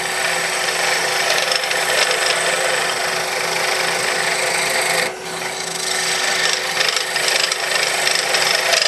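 A wood lathe spins a crochet hook blank while a gouge and skew cut the soft material, a steady loud rasping scrape that runs on without a break and dips only for a moment partway through.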